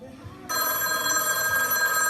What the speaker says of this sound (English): old timey phone is ringing.